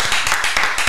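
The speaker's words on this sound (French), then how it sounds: "oui, allez, on applaudit Karim." A short burst of clapping for Karim from a studio audience at a French comedy show, dense and bright, lasting under a second.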